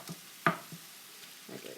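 Asian-style pork with rice and red peppers heating in a pan, giving a few soft scattered sizzles and stirring clicks, one sharper crackle early on, fairly quiet with no talk.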